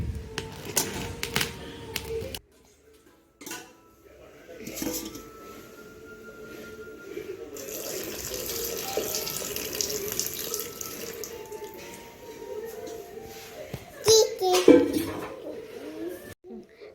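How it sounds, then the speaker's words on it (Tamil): Water trickles and splashes steadily into a bowl of sweet paniyaram batter, like a running tap, for most of the stretch, with brief clinks and louder splashing near the end. "கொஞ்சம் தண்ணி இதில் ஆட் பண்ணுறோம்"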